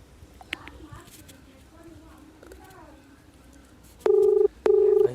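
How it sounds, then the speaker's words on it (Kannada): Phone ringback tone during a prank call: two loud, steady, evenly spaced electronic rings near the end, after quieter handset noise and brief faint tones. "ರಿಂಗ್ ಆಗ್ತಾಯಿದೆ ಗೈಸ್."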